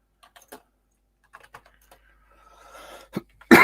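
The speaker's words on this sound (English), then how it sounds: "Clattering of the keys." Sparse computer keyboard keys clatter in short, scattered bursts in a quiet room, with a brief burst of faint rustling noise and a sharp louder sound at the very end.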